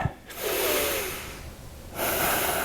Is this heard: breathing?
yes